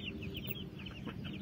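Village hens kept in an enclosure cluck softly and continuously at close range over faint outdoor background noise.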